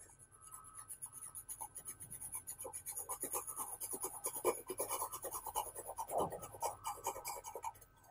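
A very hard 9H graphite pencil shading across paper, making close, quiet, repeated scratchy rasping strokes that build slightly in intensity, with no voices.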